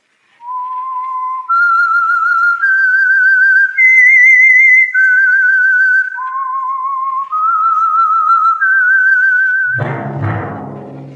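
A clear whistled tune, the theme of the old-time radio mystery show The Whistler, a slow rising and falling melody of sustained wavering notes, ending in a sudden burst of noise.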